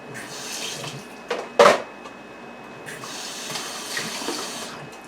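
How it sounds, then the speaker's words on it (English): Water runs and splashes as it is poured into a pot of apple wood bacon mashed potatoes to thin them, with a louder splash midway and a steady watery wash, close up, with no talk. "less than 1/4 of a cup, it's about right here, of water to thin that out"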